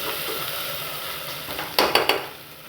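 Ginger, garlic and green chili paste frying in a pan on low heat, a steady soft sizzle joined near the end by three sharp metallic clinks of a utensil against the pan.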